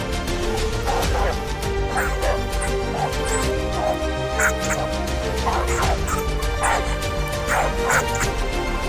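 A wild dog pup lying on the ground and trembling lets out faint whimpering cries and small yips over a steady, dense background bed.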